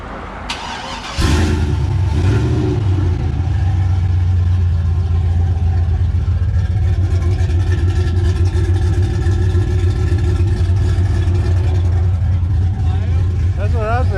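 A dirty, freshly tuned-up 1984 Chevy C10 truck with an LS engine starts and idles at a steady, loud, deep rumble up close, while people talk over it throughout.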